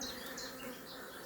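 Honeybees buzz around an opened spring hive that is being smoked lightly. The buzzing is a soft, continuous drone of several insects close by.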